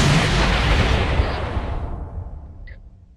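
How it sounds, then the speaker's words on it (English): A single loud explosion in a game, a sharp heavy blast up front that rolls off into a fading rumble over about three seconds, alone with no talk. "I had to protect you from the force of the explosion, Dave."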